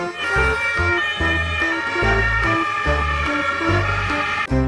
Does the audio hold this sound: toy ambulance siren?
yes